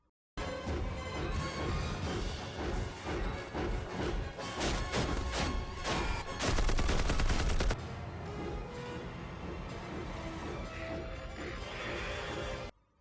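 Film battle scene in which a UFO is destroyed, with dense bursts of rapid gunfire and crashing blasts, then a sustained loud roar before the sound settles into a steadier din.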